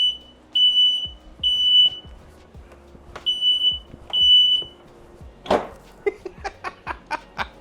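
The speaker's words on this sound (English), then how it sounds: "He sets the fire alarms off." A home smoke alarm going off while a peach and apricot crumble bakes, sounding loud, shrill repeated beeps in short bursts, followed by a run of quick chirps and a clatter, with faint laughter and voices.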